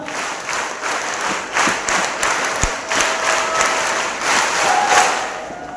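Sustained applause from an audience at a temperance gathering in Dharmasthala, a dense steady wash of many hands clapping with a few louder slaps and crowd murmur beneath, continuing evenly throughout.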